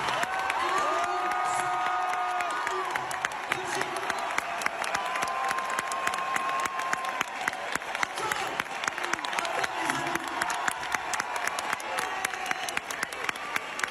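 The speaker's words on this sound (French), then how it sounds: "Faites un tonnerre d'applaudissements pour les Sherpas!" A large audience gives a long, thunderous ovation for a group of Sherpas, with steady clapping mixed with cheers, whoops and shouting voices.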